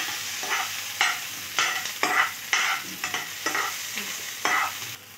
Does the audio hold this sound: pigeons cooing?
no